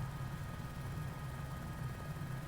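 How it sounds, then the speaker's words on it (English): Simulated Cowansim H125 helicopter engine from Microsoft Flight Simulator during a cross-country mountain flight, a steady low turbine and rotor drone holding even throughout with no talk. "it's a very surreal experience for me to be doing it in a helicopter."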